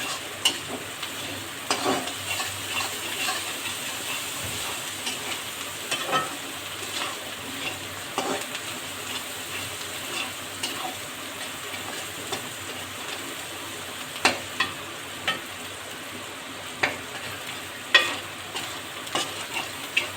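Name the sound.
frying rohu fish and giant taro curry in a pan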